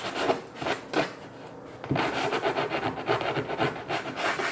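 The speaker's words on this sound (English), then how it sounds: "Just give that a nice little sand and you'll feel it's going to be, you'll feel the high spots." Hand sanding along the edge of a laminate kitchen countertop, a close, steady rasping rub in repeated strokes with brief pauses, heard alone.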